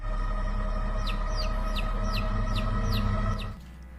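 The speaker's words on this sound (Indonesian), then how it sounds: "Ia pun mendengarkan suara ciak ayam di halaman rumahnya." A cartoon chick cheeps about six or seven times in a quick, evenly spaced series of short, high peeps over a steady background hum, which ends abruptly near the close.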